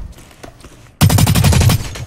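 Rapid automatic gunfire in the shooter game Blacklight Retribution, a loud, close burst of evenly spaced shots that erupts abruptly after a second of quiet background.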